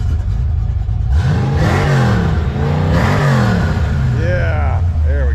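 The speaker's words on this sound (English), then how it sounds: "Let's give her one more good rev, Joe." A naturally aspirated 347 engine in a Fox Body Notchback drag car revs loudly up and down several times close by, its pitch sweeping high and falling back, with brief talk in the background.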